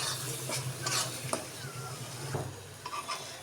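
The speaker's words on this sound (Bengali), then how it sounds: "তো এই যে কষাতে কষাতে তেলটা উঠে আসতেছে।" A spoon stirs salted hilsa masala sizzling in hot oil in a pan, with scraping strokes over a steady frying hiss, close and alone.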